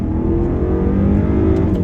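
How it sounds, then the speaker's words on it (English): A 2014 BMW 550i's twin-turbo V8 revs with a deep, steady growl, induction noise and rising pitch, loud and close, no voices over it. "I really do like the sound, the induction noise that you get"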